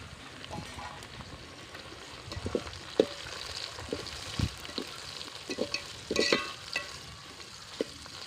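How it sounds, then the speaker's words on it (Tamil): Quiet, steady sizzling of tomatoes sautéing in a pan for village-style fish curry, broken by scattered clicks and scraping stirs of a utensil, with no voices. "இதெல்லாம் நல்லா வதங்கி வரட்டும்."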